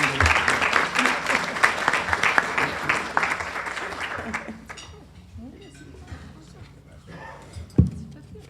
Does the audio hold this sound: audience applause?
yes